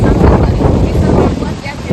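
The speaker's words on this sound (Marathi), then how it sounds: "इथं भरपूर असं वारं असतं आणि वाऱ्याने ते पाणी वॉटरफॉलचं पूर्ण वर जातं" Strong wind at the Reverse Waterfall near Kokankada, Bhandardara, India, buffets the microphone in a loud, continuous low roar, with a voice faintly mixed into the gusts.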